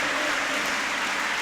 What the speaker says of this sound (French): Sur un tonnerre d'applaudissements de ce public anglois qui s'est régalé.